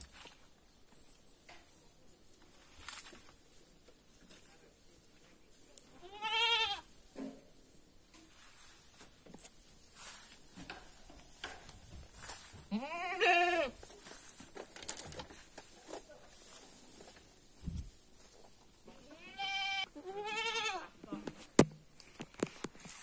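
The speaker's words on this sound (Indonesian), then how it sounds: "nah ini teman-teman ternak kambing" Goats on a village farm bleat several times at intervals, wavering calls close and moderately loud among soft rustles, footsteps and quiet background sounds.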